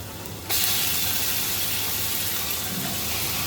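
Marinated chicken hits browned fried onions in hot oil, a sudden loud sizzle that bursts in and then settles into a steady, close hiss.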